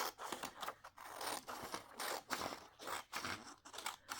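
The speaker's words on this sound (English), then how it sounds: "let's just cut another piece off, and then I'll have 2 pieces of white" Scissors snip through a piece of white paper in a quick series of crisp, close cuts with short pauses between strokes, no talking over them.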